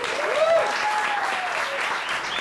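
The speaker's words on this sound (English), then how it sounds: "A big round of applause to all the students for achieving this" Audience applause for coding bootcamp students at a Le Wagon demo day in Bali: a dense, steady wash of clapping with a few whoops and cheers rising over it, sustained throughout.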